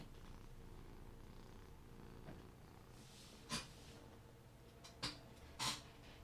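A pet cat purrs softly and continuously at close range, a low rhythmic rumble, with a few brief sharper sniffs or snorts breaking in near the end.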